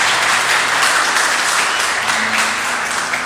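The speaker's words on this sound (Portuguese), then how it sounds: "Eu convido você a dar uma grande salva de palmas à palavra do Senhor." A church congregation gives a big round of applause at a service, a dense, loud, sustained wash of clapping from many hands that stays steady throughout.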